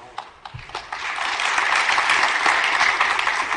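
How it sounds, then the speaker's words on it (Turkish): Audience applause at a press event for a Turkish Formula 2 driver, starting with a few scattered claps and swelling into steady, dense clapping from a sizable crowd. "Alkışları başlangıçtan itibaren duyduk"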